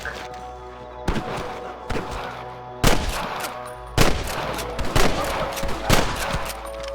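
Sniper and rifle gunfire in a Red Dead Redemption shootout, with several loud sharp reports spaced about a second apart over a steady low rumble.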